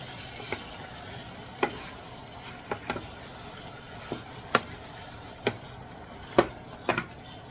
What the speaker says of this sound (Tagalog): Gigisa lang natin yan.